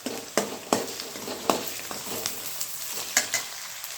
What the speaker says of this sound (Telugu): కొద్దిగా సాల్ట్ వేస్తే బేగా వేగిపోతాయి.